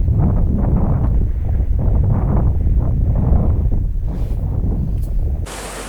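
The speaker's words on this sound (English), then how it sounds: "We've got a good bit of wind" Strong wind roars and buffets the microphone while sailing on Bass Strait, a loud, continuous rumbling gust that drops into a thinner hiss near the end.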